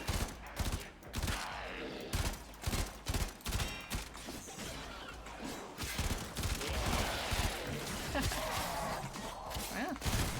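Warframe gunfire: a string of loud, sharp shots in bursts through the first half, then a denser, steady barrage of weapon fire and impacts, with a voice speaking briefly over it.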